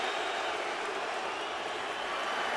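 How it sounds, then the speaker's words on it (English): A boisterous crowd at the Mayweather vs Hatton boxing fight roars in a continuous, dense wash of cheering and shouting that holds steady and loud throughout. "This crowd is boisterous."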